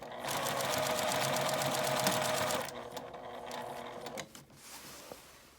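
An electric sewing machine stitches a drawstring knapsack bag with a 1 cm seam allowance, a fast steady whir of needle strokes for under three seconds, then stopping into quieter handling and clicks.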